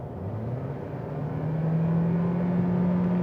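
A Toyota Prius with a 2-litre engine accelerates uphill, its engine drone rising steadily in pitch and loudness into a smooth, sustained hum heard from inside the car, with no talking.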